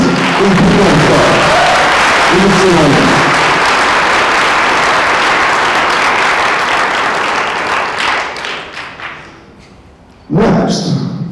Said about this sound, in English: So I think everybody's going to give everyone a round of applause right now.